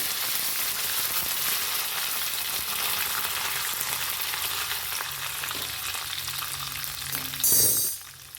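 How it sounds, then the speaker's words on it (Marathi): Cumin seeds and curry leaves sizzle in hot oil in a pan, making a loud, steady close-up crackling hiss with faint stirring scrapes and a sharp burst of spitting near the end, with no voices. "अर्धा चमचा जिरं टाकून घ्यायचे जिरं पण छान छान असं फुललं की कढीपत्त्याची पानं टाकून घ्यायचं"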